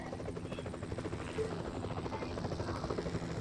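A plane in the PUBG video game drones overhead as a steady, moderately faint engine hum that stays constant throughout, with no other clear sounds on top.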